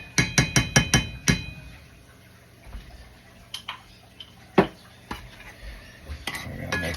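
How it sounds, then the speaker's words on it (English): A utensil stirs beef bouillon in a pot, starting with a quick run of sharp metallic clinks against the pot and then giving scattered scrapes and taps, close and clear with no talk. "We're going to mix that around."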